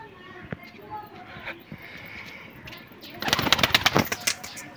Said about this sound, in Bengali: আর সব পায়রা উড়ছে দেখো